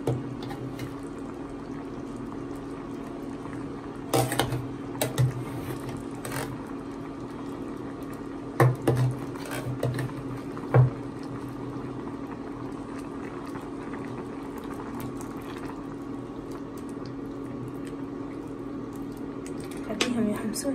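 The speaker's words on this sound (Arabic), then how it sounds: "راح احمس المعجون وياها." Tomato paste sizzles in a pot with cooked meat and beans, a steady bubbling, frying hiss throughout, broken by several sharp clinks and scrapes of a utensil against the pan; someone talks over it at times.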